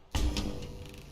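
Telephone ringing in the video game The Stanley Parable, a single sharp ring starting abruptly and decaying over about a second.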